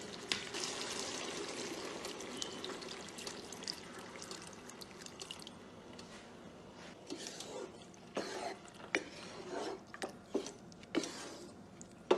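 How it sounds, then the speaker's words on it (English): Water pours into a cooking pot of chicken vegetable sauce in faint, intermittent splashing bursts that grow more frequent toward the end, against a quiet background. "So at this point we are going to add water."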